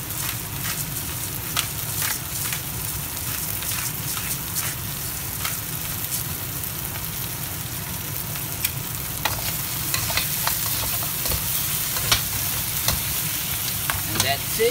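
Salt and pepper lobster stir-fries in a hot pan, a continuous sizzle broken by frequent scraping and tossing from a utensil, steady and close with no talk.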